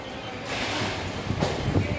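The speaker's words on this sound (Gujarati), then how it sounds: "ખૂબ જ ફાસ્ટ ટ્રેન છે અને પેસેન્જર ટ્રેન પણ છે આ" A passenger train running from Veraval to Bhavnagar, all second-class general coaches, gives a steady close rumble with a few rhythmic knocks near the end, heard from inside the coach.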